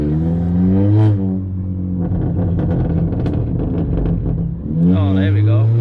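A 10th-gen Honda Accord 1.5T with a 3-inch exhaust revs hard and loud, rising to a peak, then holding a raspy, rumbling drone before climbing into another sharp rev.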